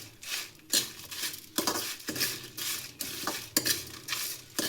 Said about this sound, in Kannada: ಎಲ್ಲದೂ ಚೆನ್ನಾಗಿ ಫ್ರೈ ಆಗಬೇಕು, ಅಲ್ಲಿವರೆಗೂ ಫ್ರೈ ಮಾಡ್ಕೊಳ್ಳಿ